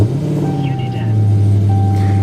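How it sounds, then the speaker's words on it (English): A 2023 Dodge Challenger SRT Demon 170 starts up, its low engine drone swelling after about a second into a loud, steady idle hum heard up close. "Let's turn this vehicle on."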